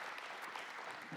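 Church congregation clapping during a service, a soft, distant patter of many hands that is faint and short, with no voices over it.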